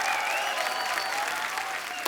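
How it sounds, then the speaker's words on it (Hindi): A studio audience on a comedy talk show claps loudly to welcome actor Irrfan Khan, a dense, continuous wash of applause with a faint whistle riding over it, sustained and even throughout. "आप सबकी जोरदार तालियों के बीच इनवाइट करना चाहूंगा, please welcome mister Irfan Khan."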